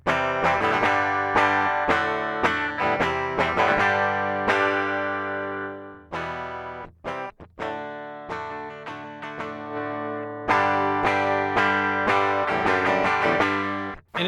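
A Gibson Billie Joe Armstrong Les Paul Junior electric guitar played clean straight into the amp, with bright strummed chords and single notes ringing loud and close, short pauses between phrases.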